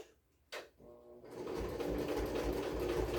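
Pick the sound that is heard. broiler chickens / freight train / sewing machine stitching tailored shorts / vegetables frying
sewing machine stitching tailored shorts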